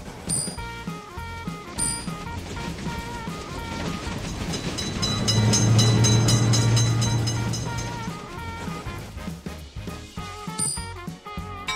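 A video-game train in a railroad crossing simulator rumbles past, swelling louder toward the middle with clattering wheels and a low horn-like tone, then fading as it moves away.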